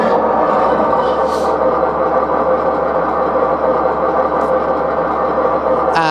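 A model Thomas tank engine's electronic sound unit plays a loud, steady engine rumble, continuous from start to finish with a brief sharper sound at the end.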